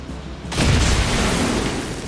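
A bomb explodes after being shot in XCOM: Chimera Squad, a single loud, deep boom that bursts in abruptly and rumbles out over the next second or so.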